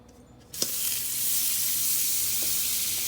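Butter or margarine dropped into a hot pot bursts into a loud close sizzle after a quiet moment, then holds as a steady hiss without talk.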